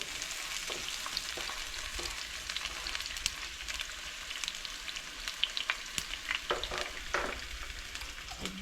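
Onion fries in a hot pan for a stir-fried chowmein, with a continuous sizzle and scattered crackles and stirring scrapes that grow busier toward the end; no voices.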